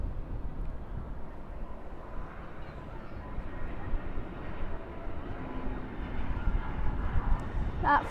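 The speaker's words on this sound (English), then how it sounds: "That flight is coming from Santa Barbara, an Airbus A319." An Airbus A319 airliner inbound from Santa Barbara passes at night near Dallas/Fort Worth International Airport as a faint, steady, distant jet rumble that swells slightly toward the end.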